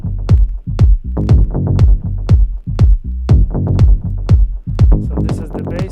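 A Moog analog synth plays a thick, punchy bass line locked with a booming kick drum, both loud and close in a steady rhythm of repeated low hits.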